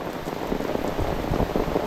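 Heavy summer rain drums steadily onto leaves and flooded ground, a thick, continuous roar of drops held at an even, loud level throughout, with no voices.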